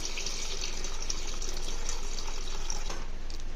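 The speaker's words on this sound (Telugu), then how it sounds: "వాటర్ యాడ్ చేసుకుంటున్నాను." Steady gushing water pours continuously into a cooking pot for bagara rice, a loud, even liquid rush from start to finish with no voices.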